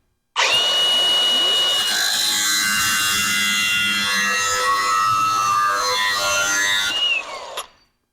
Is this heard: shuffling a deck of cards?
no